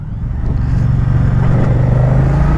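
Moto Guzzi V100 Mandello motorcycle engine accelerating, a loud, close, deep rumbling drone that builds slightly in pitch over a couple of seconds, heard alone without talking.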